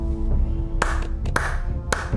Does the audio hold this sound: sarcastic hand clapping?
yes